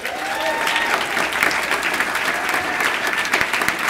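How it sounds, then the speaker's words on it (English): Conference audience gives a big round of applause for speakers after a set of short talks, sustained loud clapping filling the room. "let's give these incredible visionaries, incredible leaders, incredible thinkers a huge round of applause"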